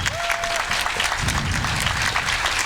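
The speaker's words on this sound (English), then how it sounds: "Let's hear a round of applause for all the patrons of the Manchester Monument." A crowd at the Manchester Monument dedication gives steady, dense applause for the patrons, sustained and fairly loud throughout, with faint voices mixed in.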